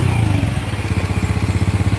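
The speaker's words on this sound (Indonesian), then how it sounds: "ini mesinnya sudah kita rakit dan suaranya sudah cukup halus ya teman-teman" A Honda Grand motorcycle engine, newly assembled, runs at a steady idle close by, its rapid, even pulsing continuing alone for the full two seconds.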